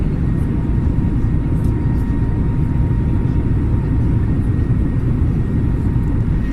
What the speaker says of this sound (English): these sounds make me feel like I'm actually in the airplane